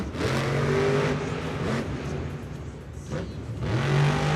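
Monster truck engine at a Monster Jam show in a domed stadium, revving hard through a slap wheelie, with loud sustained roars and rising pitch swells over arena din.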